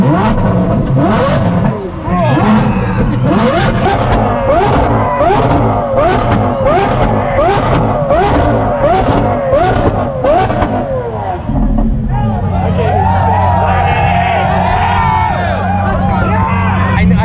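Lamborghini Aventador SVJ fitted with a Gintani exhaust revs hard at a car show, a loud rapid string of about a dozen sharp throttle blips followed by a sustained high roar, with a crowd in the background.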